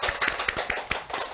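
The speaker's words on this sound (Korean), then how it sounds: "박수." Brief clapping at a webtoon author talk event, a quick run of about six sharp claps from a small group, close and fairly quiet.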